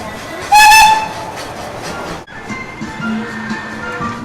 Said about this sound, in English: is this train going a little faster?